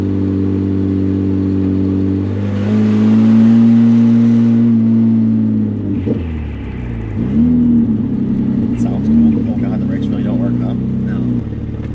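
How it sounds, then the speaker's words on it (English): A flood-damaged BMW's engine runs with a steady, loud drone that swells as it revs, then drops back and stumbles with an uneven, misfiring pulse. The whole run is heard up close. "It's running. It drives nice. Misfire. No, she's misfiring."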